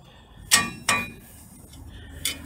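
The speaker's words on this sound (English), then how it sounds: "now the caliper is loose you can just hit them out like they will just come off" Loose brake pads are knocked out of a car brake caliper with two sharp metallic clanks in quick succession, then a pause and a third fainter clink.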